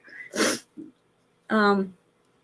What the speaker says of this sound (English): I'm about to sneeze.